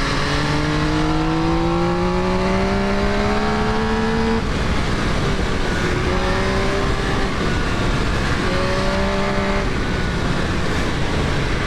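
An MV Agusta Brutale 800 Rosso motorcycle engine revs and climbs in pitch as it accelerates out of a bend, easing off and surging again over steady wind and road roar.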